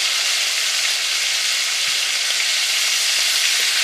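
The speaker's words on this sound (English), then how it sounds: "Now we're getting to the fried pork part." Pork pieces fry in a pan with a loud, continuous sizzle and crackle that holds steady throughout, close up and with no talking.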